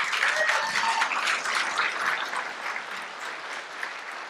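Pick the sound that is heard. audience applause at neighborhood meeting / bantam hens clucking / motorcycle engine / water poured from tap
audience applause at neighborhood meeting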